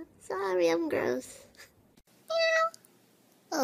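A person imitates a cat's meow, a single drawn-out vocal meow after some laughing talk, then a second shorter meow call, close and fairly loud.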